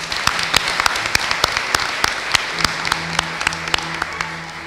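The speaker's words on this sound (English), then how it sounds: "let's give a round of applause." Dense applause from the audience at a 2023 medical school graduation ceremony, with many hands clapping at a steady, loud level throughout and no speech over it.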